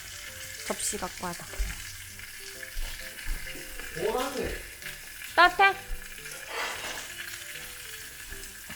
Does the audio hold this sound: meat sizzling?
yes